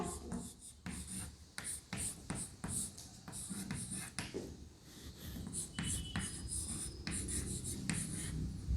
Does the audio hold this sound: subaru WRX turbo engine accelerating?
no